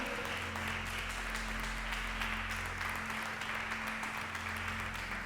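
Church congregation giving sustained, dense applause during a sermon service, an even roar of clapping that holds steady the whole time over a low electrical hum.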